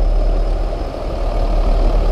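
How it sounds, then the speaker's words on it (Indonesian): A new vehicle's engine hums steadily nearby as it waits in a queue on fresh asphalt behind a bus, a deep, even, low rumble lasting the whole stretch with no voices over it. "Kalau mobil baru ini memang bunyi mobilnya memang mantap ya. Bulat bunyinya."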